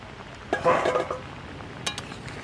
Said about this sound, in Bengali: এবারে চাপা খুলে নেব